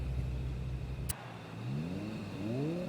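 McLaren race car in Forza Horizon 5 in the desert at a street race start: low engine idle cuts off, then the engine revs up through rising gear pulls, moderately loud, with no talking.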